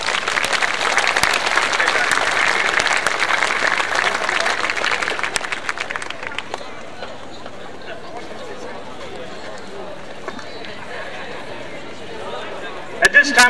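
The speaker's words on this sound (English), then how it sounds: "Let's give these guys a round of applause." Crowd applause at a school pep fest fills the first half with dense, loud clapping and cheering, then fades into quieter murmuring of the gathered audience, with a brief burst of noise near the end.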